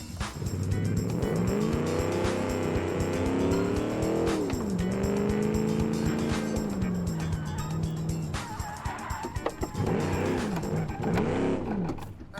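A seven-litre V8 car in the BeamNG.drive driving game spins its tyres, the engine revving loudly up and down with squealing rubber layered over it, continuous and up close.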